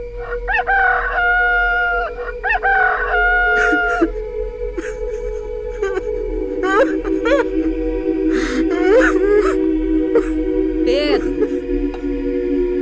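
A rooster crows repeatedly and loudly in a Passion of Christ stage play, with several long cock-a-doodle-doo calls over a steady low hum and a few clucks between them.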